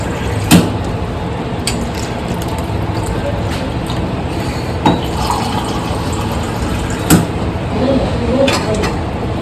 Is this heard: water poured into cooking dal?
yes